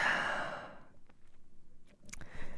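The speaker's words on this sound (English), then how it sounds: "And breathe." A long, audible exhale during a qi gong forward-hanging stretch fades out slowly, followed by faint quiet breathing and small rustles.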